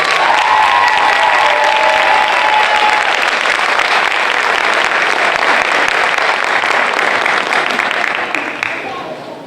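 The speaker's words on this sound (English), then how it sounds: "Let's celebrate our graduates by giving them a big round of applause." Sustained loud applause from the audience at a high school fire science cadet graduation ceremony held by a Fire/EMS department, a dense steady wash of clapping for the graduates that holds for several seconds before starting to fade at the end.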